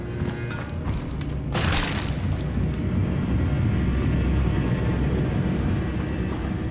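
A Bombarda explosion spell in Hogwarts Legacy goes off as a single sharp blast, followed by a rumbling, boomy tail over a steady low game ambience.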